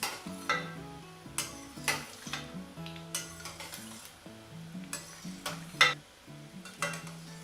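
Sweet potato jamun frying in hot oil while a spoon stirs and clinks against the pan, giving a steady soft sizzle broken by repeated sharp metallic taps.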